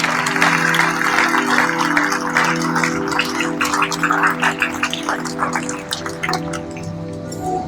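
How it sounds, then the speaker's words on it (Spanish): Church congregation applauding during a Spanish-language sermon at a Christian community service, a dense steady clapping wash that thins toward the end, with sustained organ or keyboard tones underneath. "Dale un aplauso al Señor."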